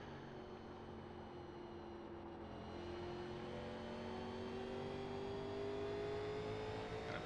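Race car engine in the iRacing NASCAR Legends sim at Richmond, a steady sustained drone with a slowly rising pitch as the throttle is held on, continuous and fairly loud with no talk.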